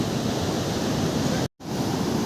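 Rough monsoon sea surf roaring in a steady, dense wash of crashing waves, loud and close, with a brief dropout near the middle and no voices.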